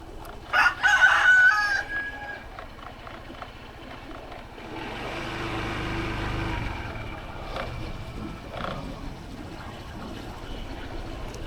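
Free-roaming chickens and a rooster crow and cluck near the start, followed by quieter outdoor ambience with a distant engine-like rumble.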